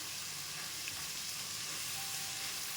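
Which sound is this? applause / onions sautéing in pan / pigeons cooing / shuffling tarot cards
onions sautéing in pan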